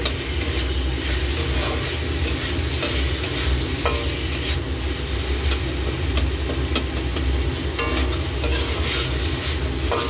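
Bell pepper, papaya, potato and carrot sauté in a pan with a dense continuous sizzle, repeated spatula scrapes and clicks over a low steady hum, close up and without talk.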